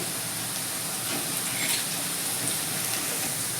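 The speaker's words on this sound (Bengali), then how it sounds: "এরপর আমি এক চামচ পাঁচফোড়ন দিয়ে দিচ্ছি" Panch phoron spices sizzle in hot oil with onions browned for a Bengali-style pui shak curry, giving a steady, close, hissing crackle throughout.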